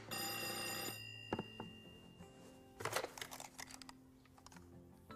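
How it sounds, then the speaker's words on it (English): A telephone bell rings loudly for about a second, then stops, followed by a few sharp clicks and clatters. "Pick up the phone."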